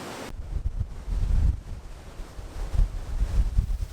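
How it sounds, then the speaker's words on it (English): Storm wind buffeting a microphone aboard a cruise ship at sea, with surging waves below; gusty roaring rises and falls in uneven bursts, loud and close throughout. "We were cruising through a storm."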